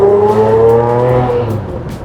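An old-school Lamborghini Murcielago V12 holds a loud, close rev, a rich layered engine tone that sustains and then eases slightly toward the end, with no voices.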